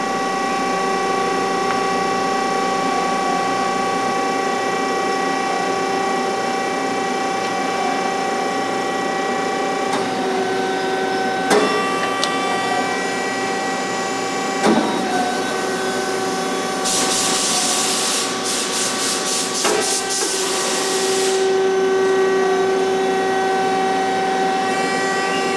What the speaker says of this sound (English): It will pick up the bending leaf action and unclamp top leaf upon completion of the bending leaf cycle